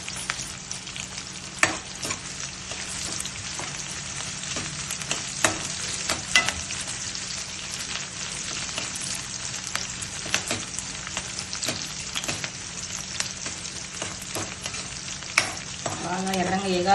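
Dried red chillies and onion fry in a pan with a steady, close crackling sizzle and occasional stirring scrapes throughout, without any talk.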